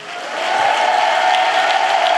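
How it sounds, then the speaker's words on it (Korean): A church congregation applauds and shouts in praise, a steady loud wash of clapping and crowd voices that swells in the first half second and then holds dense and even to the end. "우리 주님께 큰 박수 함성으로 영광 올려드립시다"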